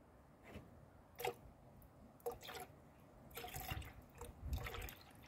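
Coolant pours and trickles in a few short bursts while a 2010 Ford Fusion thermostat is replaced, with gentle splashing and glugging that grows heavier toward the end; quiet overall, no talking.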